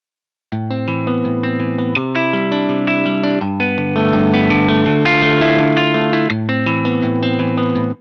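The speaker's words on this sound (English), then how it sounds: "awesome virtual guitar effects including distortion, modulation, mixing, reverb and delay, and amp and cab effects" Electric guitar chords ring out through heavy effects, distorted and chorus-thickened with reverb and echo trails, played steadily and loud with no voices.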